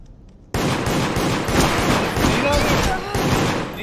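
Rapid gunfire bursts ring out in the multiplayer survival horror game Deceit as a player is shot, loud repeated volleys with a sudden start and a brief pause near the end, with voices talking over it.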